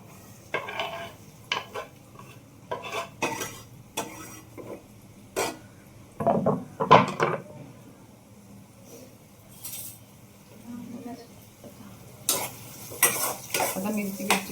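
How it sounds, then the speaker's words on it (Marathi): Onion dropped into hot oil in a pan sizzles while being stirred, with repeated spoon scrapes and clinks against the pan in an irregular rhythm. "तर आपण टाकू कांदा."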